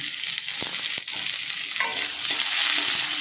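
Crushed garlic cloves and a large dried onion sizzle loudly in a pan for a mixed-vegetable ash gourd stem curry, with quick spatula scrapes and knocks over a constant close frying hiss.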